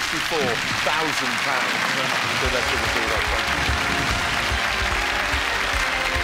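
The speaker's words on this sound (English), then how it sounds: "a massive round of applause" Studio audience on a British quiz show breaks into a big, sustained round of applause and cheering for a contestant's win, dense and steady throughout with a host's voice heard over it at the start.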